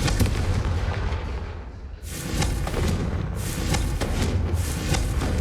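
Confringo blast spells explode in the Hogwarts Legacy game: loud, booming bursts with a brief dip before a second heavy explosion rolls on, no voices.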